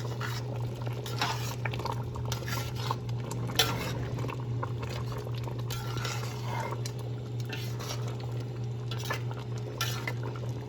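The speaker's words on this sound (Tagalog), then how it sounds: "Mix na natin ito sa munggo." Stirring chicken into a pot of mung bean stew with taro, with steady scraping and soft clinks of a utensil against the pot over a constant low kitchen hum, no talking.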